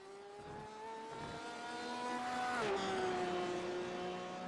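Race car engine in a GT Masters sim-racing event at Interlagos, a steady high-pitched engine whine rising and then dropping sharply in pitch as the car passes and crosses the finish line, loud and close with no talk.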